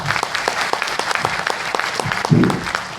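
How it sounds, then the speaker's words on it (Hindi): Audience at an education anniversary presentation clapping in a moderate, fairly sparse pattern of distinct claps with a low crowd murmur beneath. "एक बार फिर से तालियां बज सकती है इसके लिए।"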